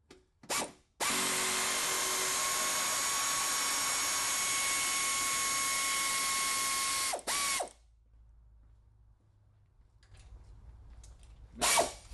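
A power tool loosens the muffler hanger bolts on a C5 Corvette, letting out a long, steady high-pitched whine for several seconds, bracketed by short bursts, then a final brief burst after a quieter stretch.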